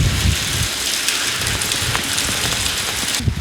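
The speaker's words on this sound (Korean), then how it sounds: "비가 와도 잠시 비를 감상할 여유조차 없다." Rain on a small remote island pours down steadily and heavily, a dense close hiss of drops striking surfaces with occasional louder splatters, with no voices.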